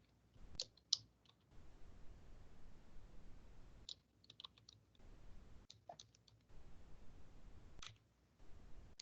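Clicks on a computer keyboard while entering a search subject, coming in short quiet bursts separated by brief pauses, close and faint.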